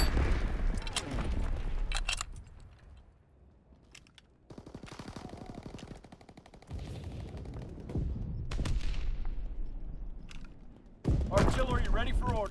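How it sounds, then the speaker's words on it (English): A mortar strike in Call of Duty WWII on PS4, heard as rapid bursts of gunfire and booming impacts in a busy battle soundscape, with a game radio voice calling orders between the volleys. "Mortar shot out, sweeping the zone."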